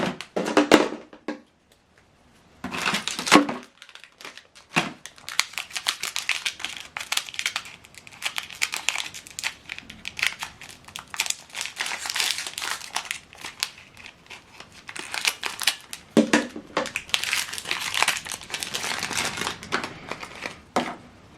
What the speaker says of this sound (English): just need to pull off this plastic